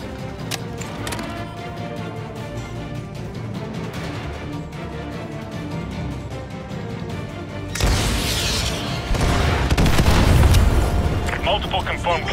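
Missile-strike explosions in the game Call of Duty Modern Warfare 2 Remastered: steady battlefield ambience, then a sharp blast followed by heavy, rolling booms and rumble that swell loud near the end.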